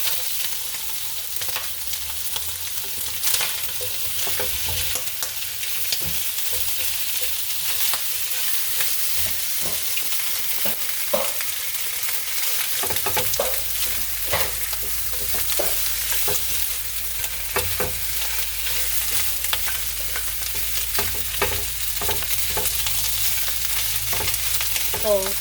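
Corned beef and cabbage stew sizzles and crackles as it warms in a pot on a hot stove, a steady close hiss with scattered pops and occasional scrapes of stirring, and no one speaks.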